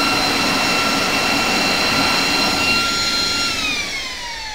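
A small high-power electric jet fan (ducted fan) whines loudly and steadily like an aircraft jet engine, its piercing tone holding near and constant before dropping slightly in pitch and easing off toward the end.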